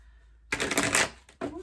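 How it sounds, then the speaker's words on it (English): Crystal Power Tarot cards being shuffled and drawn: a close, brisk riffle of paper cards lasting under a second, then a short pause and a second quick flick of a card. "I'm going to use the Crystal Power Tarot deck to get some more cards."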